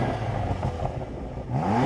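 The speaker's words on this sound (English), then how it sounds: "I love the fact that BMWs let you rev all the way up." BMW M2 CS with a sports exhaust revving hard while stationary, the engine note climbing steadily in pitch toward the end, loud and close with no voices over it.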